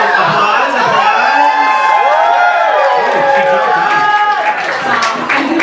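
Live audience at a Harry Potter fan event breaking into loud, sustained cheering, whooping and clapping, a dense crowd roar close by with high shouts on top.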